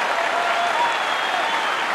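Big stadium crowd roaring and clapping at the 1979 NL playoff opener between the Reds and Pirates in Cincinnati, a loud continuous wash of cheers with no announcer over it.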